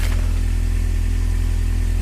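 A turbocharged Honda H22 engine idles in a car, running loud and close with a steady, even, low throb and no change in revs.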